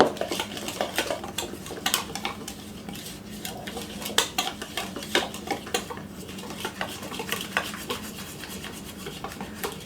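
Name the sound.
mixing casserole batter with a spatula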